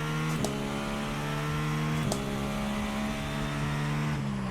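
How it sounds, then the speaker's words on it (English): Race car engine held at full throttle in iRacing, a steady loud drone with strong harmonics and brief gear-shift dips, sounding close and alone with no talk. "Now we can go full throttle finally."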